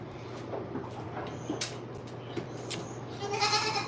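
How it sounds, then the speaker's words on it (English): Goats bleat on a farm, a few scattered calls at moderate distance over faint background noise, with a louder cluster of bleats near the end. "I'm gonna put all these naughty goats away"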